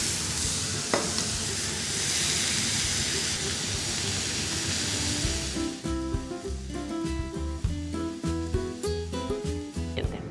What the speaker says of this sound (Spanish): Tengo aquí un sartén con aceite de oliva a fuego medio. Y vamos a cocinar esta cebolla que está picadita hasta que quede transparente